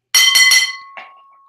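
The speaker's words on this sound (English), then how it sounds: "And that brings me to my opening bell." A wrestling opening bell rings three quick bright strikes, loud and metallic, followed by a fainter fourth ding and a lingering ring.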